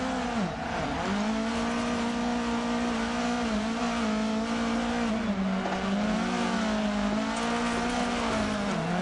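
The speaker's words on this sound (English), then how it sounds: "Heard you ease off the throttle then." A rallycross car engine drones loud and close at steady high revs, its pitch dipping and wavering as the driver eases off the throttle, continuous throughout with no talk.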